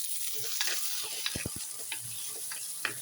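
Green chilies and tomato sizzle in a pan with curry leaves, a soft steady frying hiss broken by a few small ticks and a quick burst of taps near the middle.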